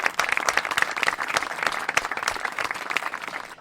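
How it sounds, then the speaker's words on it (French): A studio audience claps together in a lively, close burst of many hands, crisp and continuous for a few seconds without speech. "Je pense qu'on peut les applaudir déjà tous ensemble."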